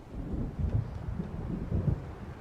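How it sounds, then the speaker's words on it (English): Low rumbling thunder from an approaching storm in the video game Alan Wake Remastered, a steady deep roll with a few swells over a wind-and-rain-like background, heard alone without voices. "It seems there's a storm coming."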